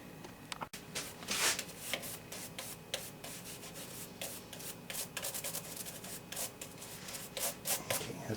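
Fine compound being rubbed along the frets of a Squier Fender Stratocaster guitar, a steady close scrubbing and rubbing with quick repeated strokes and small pauses, alone without talk.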